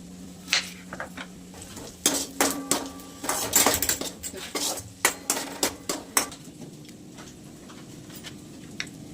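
A knife cutting onion into pieces on a board in a home kitchen: a run of sharp, irregular chops and taps, close and distinct, some in quick clusters, with a light clatter of utensils and no speech.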